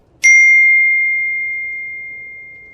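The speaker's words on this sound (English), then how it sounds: "Oh, my phone went off again." A single bright phone notification ding strikes sharply and rings out, its pure tone slowly fading over a couple of seconds in near silence.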